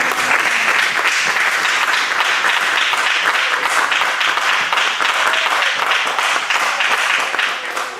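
A church congregation applauds together, dense sustained clapping filling the room at a steady loud level for several seconds before easing slightly at the end.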